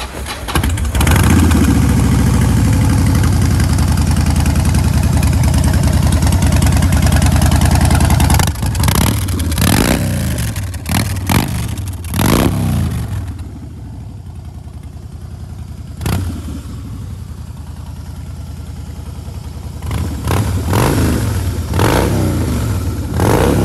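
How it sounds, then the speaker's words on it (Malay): A 2015 Harley-Davidson Fat Boy with a 1690 cc V-twin cranks and fires, settles into a loud, rumbling idle close to the listener, then rises and falls through a series of sharp throttle blips before idling again, with no talking. "kita cuba start tengok bunyi Harley Fat Boy"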